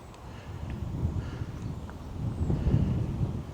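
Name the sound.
wind blowing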